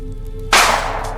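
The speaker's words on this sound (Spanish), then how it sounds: "Y un disparo salió del revólver." A single loud revolver gunshot cracks out sharply partway through, after a quiet low hum, then tails off into a decaying roar with no talk.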